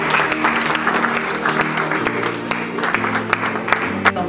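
An audience applauds during a talk on diet for diabetics, dense clapping with sharp individual claps standing out, while a low sustained tone hums beneath, loud and close throughout.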